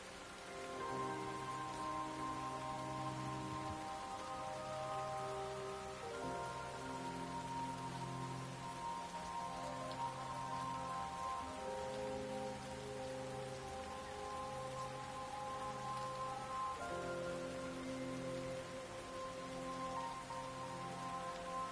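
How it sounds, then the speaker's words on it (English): Steady rain in the video game Lost Judgment patters continuously on surfaces under a soft, sustained musical backdrop, with no voices. "It's raining."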